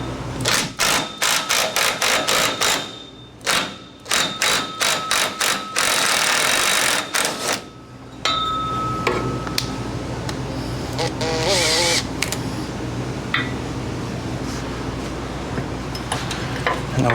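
An impact wrench hammers at the cross member bolts on a 1964 Ford F100 in loud, close rapid bursts, first in short stuttering pulses and then in one long sustained run, followed by a steady mechanical whir with clanks.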